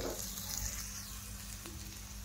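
Stuffed bitter gourds sizzle in a pan over a low flame, a soft, even crackle that carries on steadily for a couple of seconds, faint and close, with no talking.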